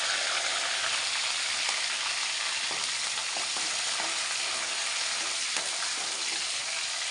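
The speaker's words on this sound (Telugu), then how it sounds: "ఆనియన్స్, బాగా ఫ్రై చేద్దాం ఇట్లా ముందు." Potatoes and onions fry in a pan with curry leaves and green chillies, giving a loud, continuous crackling sizzle with occasional stirring scrapes close by and no one speaking.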